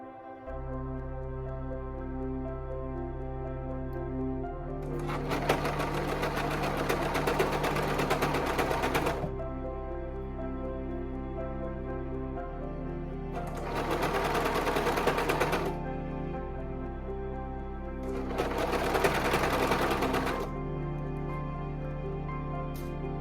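Juki MCS 1500 coverstitch machine sewing a shirt hem, running in three bursts of steady rapid stitching, with a low mechanical hum and quieter pauses in between; no talking.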